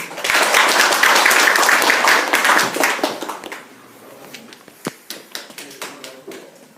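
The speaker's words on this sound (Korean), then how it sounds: "뜨거운 박수 부탁드립니다" Warm applause from an audience at the founding general assembly of a Rotary club in Busan greets the incoming charter president, loud and dense at first, then thinning over the last seconds into scattered individual claps.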